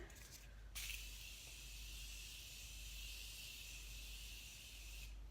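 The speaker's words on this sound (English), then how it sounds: "I'm just gonna spray it with setting spray" A long, continuous hiss of makeup setting spray, steady and close, after a brief short burst at the start.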